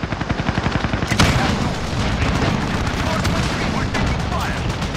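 Rapid automatic gunfire in a Call of Duty Modern Warfare multiplayer Domination match on the Shoot House map, steady rhythmic bursts up close, with a sharp louder blast about a second in and voices talking over the shooting.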